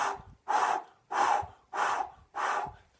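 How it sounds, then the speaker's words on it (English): Five strong, evenly spaced breaths are blown out one after another as a singing breath exercise, each a close, airy rush with a brief gap between. "And blowing"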